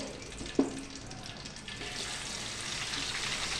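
Dried fish fries in a pan with eggs, a steady broad sizzle building after a brief clatter as the fish goes in, close and continuous.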